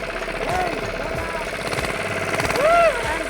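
A motorbike engine idles with a steady knocking chug right after being started, close and continuous, while people talk over it.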